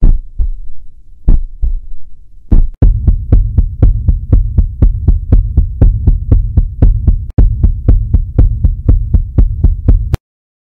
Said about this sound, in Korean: 제 심장이 얼마나 빨리 뛰는지